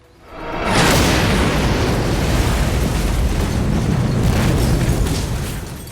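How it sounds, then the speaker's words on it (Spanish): A loud explosion from a World War II commando sabotage demolition bursts in after a brief quiet moment, then a dense roaring rumble sustains for several seconds before slowly easing. "capaz de generar una fuerte explosión"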